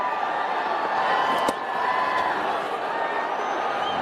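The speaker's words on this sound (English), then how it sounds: "The fans have come all the way from different parts of Karnataka to cheer." Cricket fans cheer across a stadium during a Karnataka Bulldozers versus Telugu Warriors CCL 2025 match, a steady broad roar of crowd noise with a brief sharp spike midway, holding at an even, fairly loud level.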